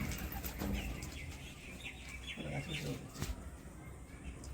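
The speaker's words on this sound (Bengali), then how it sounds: "দেখুন 5টা পায়রা ছেড়ে দিয়েছে" Five released pigeons flapping their wings in flight at an outdoor pigeon release, with faint wingbeats and coos amid background noise and a voice talking.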